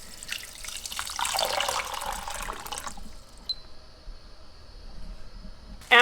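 Cold water runs from a kitchen tap for about three seconds with a splashing hiss into the sink, then shuts off, leaving a quiet room with a faint tone and a brief clatter at the end.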